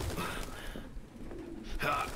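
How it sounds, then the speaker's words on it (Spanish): Pigeons coo in a city scene of the video game Detroit: Become Human, soft repeated calls heard under voices speaking Spanish. "Palomas."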